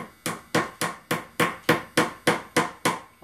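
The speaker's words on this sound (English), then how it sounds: "It's a little hammer." A small hammer taps a little nail into a model ship's planking in a steady rhythm, about a dozen sharp, close metallic knocks evenly spaced with brief ringing after each strike.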